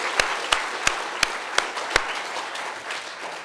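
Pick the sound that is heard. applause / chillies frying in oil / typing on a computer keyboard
applause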